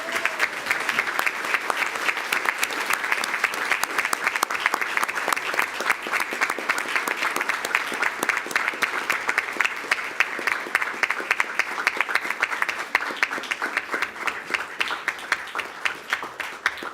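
Audience at a school board meeting applauds school mariachi groups, a dense sustained round of clapping from a seated crowd lasting throughout, loud and close.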